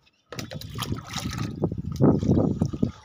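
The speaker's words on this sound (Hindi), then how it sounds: "बचे हुए जो भी गमले उनमें डाल देते हैं पहले तो।" Water is poured from a bucket into plant pots, giving a close, uneven trickling and splashing in bursts that swell and fade.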